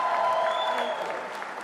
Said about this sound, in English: Please, can we applaud?